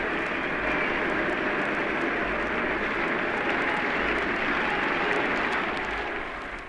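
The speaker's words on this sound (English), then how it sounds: "Listen to the crowd." A large stadium crowd at a Springbok rugby match roars as a player is carried off the field on the shoulders of teammates, a broad, steady noisy wash that stays loud throughout and eases slightly at the end.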